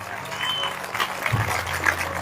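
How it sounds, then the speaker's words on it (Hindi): A church congregation claps together during a sermon, a dense, continuous patter of applause filling the room with a speaking voice running over it. "अगर आप प्रभु के लिए ताली बजा रहे हैं तो अच्छे से बजाइए।"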